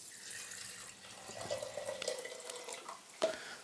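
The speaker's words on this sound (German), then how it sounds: "dann 400 Milliliter lauwarmes Wasser da drauf machen" Lukewarm water, 400 ml, poured for tomato bread dough, giving a soft, steady trickling stream that builds slightly midway, with a sharper splash or clink near the end.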